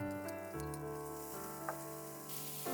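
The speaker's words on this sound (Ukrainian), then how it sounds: "На пательню викладаємо масло. Додаємо дрібно порізану цибулю" Butter and finely chopped onion frying in a pan, giving a steady, quiet sizzle that runs unbroken through the moment with no voices over it.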